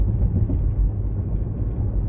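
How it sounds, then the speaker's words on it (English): A Range Rover Sport SVR is being driven on the road, producing a loud, steady low rumble of engine and road noise heard from inside the vehicle without any talking. "I'm going there in my Range Rover Sport SVR."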